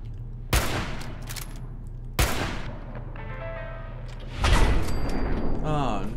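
Gunshots from a weak but accurate gun in Fallout 4: two loud, isolated cracks a couple of seconds apart, then a denser burst of firing with ringing game effects, under a speaking voice.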